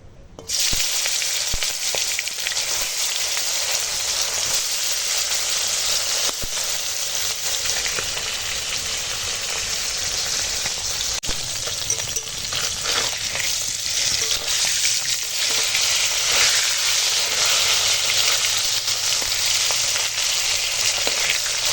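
Steady, loud sizzling of koi fish frying in hot oil in a kadai, a dense crackling hiss that continues unbroken throughout with no talking.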